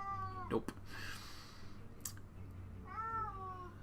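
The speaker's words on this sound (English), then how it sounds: "that's my cat. He's being very meowy right now." A house cat meows twice, a drawn-out, wavering call near the start and another about three seconds later, close and clear over a steady low background hum, with one brief spoken word between them.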